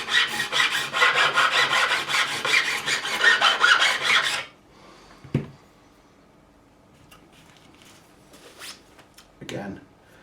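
A profiling file rasps along the frets of a Fender Stratocaster during a refret, rapid rhythmic back-and-forth strokes for about four seconds, followed by quiet with a few light handling knocks.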